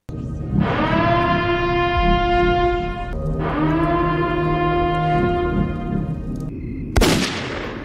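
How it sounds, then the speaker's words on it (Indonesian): A civil defense siren wails in two long rising-and-holding blasts that fill the air. A sharp bang follows near the end. "sirene tanda pembersihan dimulai pun berbunyi"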